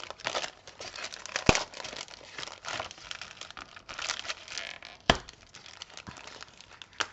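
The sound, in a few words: opening the packaging of a sticker craft kit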